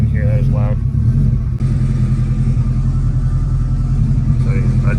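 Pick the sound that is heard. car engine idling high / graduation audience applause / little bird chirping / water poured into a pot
car engine idling high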